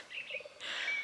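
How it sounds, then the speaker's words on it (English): Faint sandhill crane calls in the distance, a couple of short rattling cries followed by a longer call, over quiet outdoor air. "Sandhill cranes in the background."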